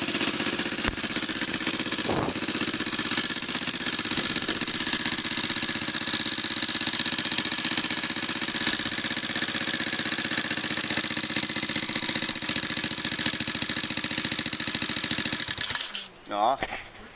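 A Lifan 125cc motorcycle engine idling just after starting, a steady close mid-pitched rumble with slight knocking that cuts out near the end.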